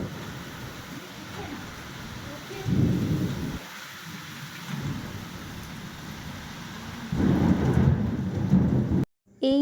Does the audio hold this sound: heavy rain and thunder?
yes